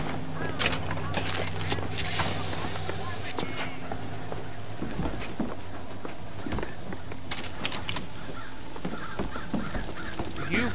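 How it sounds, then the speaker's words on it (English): Crows caw repeatedly in BioShock Infinite game audio, mixed with footsteps, busy game sound and someone talking over it throughout. "You fucking worthless crows"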